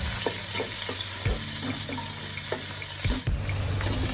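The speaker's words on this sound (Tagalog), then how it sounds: "unahin nyong igisa ang luya at sibuyas. Haluin nyo lang" Ginger and onion sautéing in a pan for chicken tinola, a steady soft sizzle broken by occasional clinks and scrapes of stirring, close and alone with no voices.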